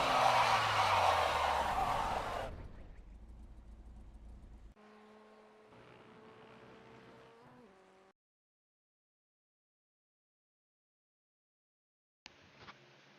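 A racing car in iRacing roars loudly at first, then fades to a steady engine drone with whining gear tones, followed by silence and a brief final burst of noise.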